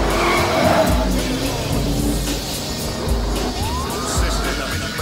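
Tires skid and squeal during a car chase in Battlefield Hardline, with loud engine roar running throughout and a rising screech near the end.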